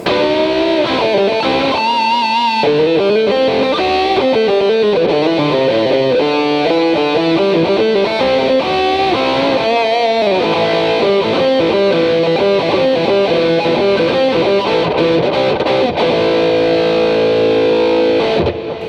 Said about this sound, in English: you throw some distortion, I want that bridge pickup